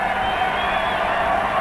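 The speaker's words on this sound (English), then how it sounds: "The crowd just jumping out of their skins here" Stadium crowd roaring at a 1997 Australia v France rugby test match, a steady, loud wash of cheering and whooping with no break.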